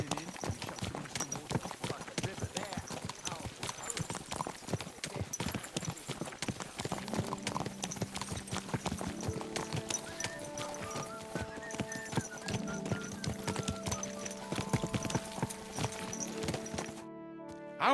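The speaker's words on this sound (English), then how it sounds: "Watch out with that horse!" Horse hooves clip-clopping in the medieval video game Kingdom Come: Deliverance 2, a steady rapid beat of hoofbeats with a neigh, under background music that grows into sustained tones toward the end.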